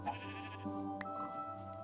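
Sheep bleating in a blocky survival crafting video game, a short wavering bleat rising over steady background game music and ambient tones, fairly quiet and alone without talk.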